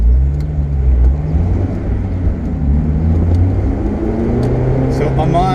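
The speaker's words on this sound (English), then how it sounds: "So for as much as I say I don't care for 0 to 60 pulls, let's do one" A 2003 Honda S2000 (AP1) accelerates hard for a 0 to 60 run onto an on-ramp, its engine note rising steadily from inside the cabin as a loud, continuous drone with a faint whir layered over it.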